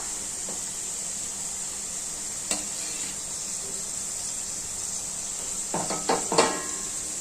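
French fries frying in hot oil over a high gas flame, a steady bright sizzle running throughout, with a few clinks and scrapes of a utensil against the pan near the end.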